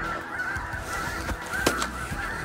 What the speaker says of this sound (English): Our Revolution comes with 5 snow goose sounds on it